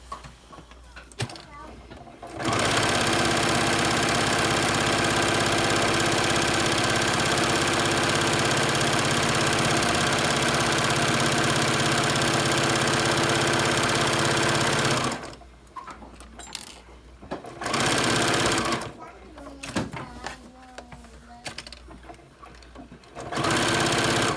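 Sewing machine stitching an apron in a long, steady, loud run of fast mechanical whirring, then short stop-start bursts with quieter gaps where a person talks.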